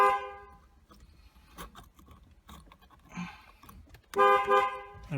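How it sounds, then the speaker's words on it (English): Car horn sounded through a Nardi steering wheel horn button, a few short toots early on followed by a louder, longer double honk near the end, close and clear. "we're going to hook up the horn button"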